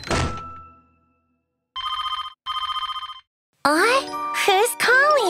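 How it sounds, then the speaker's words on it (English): A telephone rings in a kids' cartoon: a soft thunk, then two bright, evenly pulsing ring bursts, after which a high cartoon character voice starts speaking. "Who's calling? I don't know this number. I shouldn't answer it."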